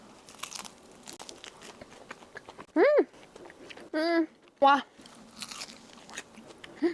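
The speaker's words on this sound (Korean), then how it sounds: "황치즈 크림 소금빵. 겉에 바삭바삭바삭바삭." Bites into a Korean salt bread filled with yellow cheese cream and topped with cheese, its outside crisp, giving a few sharp crunchy bites close to the mic amid quiet chewing, with someone speaking briefly.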